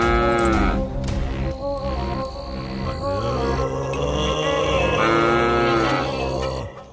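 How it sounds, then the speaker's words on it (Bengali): A cow moos repeatedly at night, loud and close, with long drawn-out lowing calls over a faint background of crickets. "এ কি, এত রাতে গরু ডাকছে কোথায়?"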